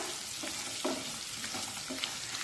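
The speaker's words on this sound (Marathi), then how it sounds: "हा कांदा थोडा मऊ होईपर्यंत शिजून घेऊया" Thinly sliced onion fries in oil for vermicelli upma, giving a dense continuous sizzle close by. Soft scraping stir strokes are scattered through it, and there is no talking.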